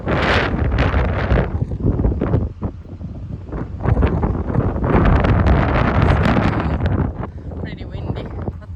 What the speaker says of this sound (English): Pretty windy, but not too bad.